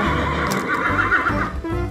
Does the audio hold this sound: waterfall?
no